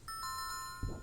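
A doorbell chimes in the video game 2064: Read Only Memories, a bright electronic ding-dong of a few clean tones, close and clear, followed by a short low thump.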